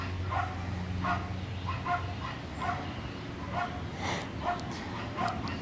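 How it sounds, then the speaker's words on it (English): A German short-haired pointer puppy, a female, gives short yips and whimpers in a quiet room, repeated in soft bursts about every second. "Yep, German short-haired pointer."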